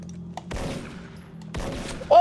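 Two short bursts of gunfire in the Special Force online shooter, a rattle around half a second in and another a second later, moderately loud over a quiet game background.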